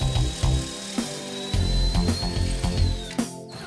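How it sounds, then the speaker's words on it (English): A twist drill bores a hole in wood panelling with a woodworking jig, sounding as short, repeated bursts of a close, loud drill motor that rises and dips several times over a few seconds. "drill a hole using the twist drill"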